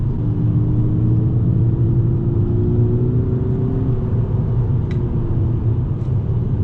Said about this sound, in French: Vous voyez là je pète en 4e à 2000 tours, j'accélère, ça repart sans aucun problème.